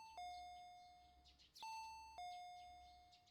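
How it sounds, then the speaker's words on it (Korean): Electronic two-tone doorbell chime in a Korean visual novel game, ringing three times in a steady repeating pattern, each bright ding-dong ringing out and decaying over a quiet background. "아까부터 울리던 초인종 소리."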